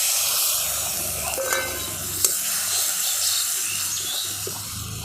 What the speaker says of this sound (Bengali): অল্প বাটিটা ধুয়ে আমি অল্প একটু জল দিয়ে ভালো করে কষিয়ে নেবো